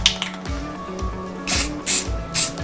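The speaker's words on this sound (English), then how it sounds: "Now I'm going to hit it with some rusty metal primer" Rattle-can rusty metal primer sprayed onto a rusted car fender, several short hissing bursts of varying length, close and fairly loud, with no talking.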